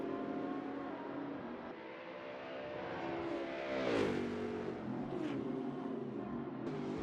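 Racing car engine in a sim racing video game, a sustained mid-distance engine drone that climbs and drops in pitch as it shifts and revs, with no voices.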